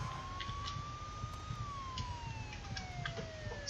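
A faint, thin police car siren in the video game Mafia II slides slowly up and then drifts down over a low rumbling background, distant and steady.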